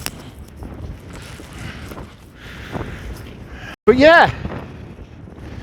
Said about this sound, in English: I really hope you can hear this wind. It is amazing, this wind.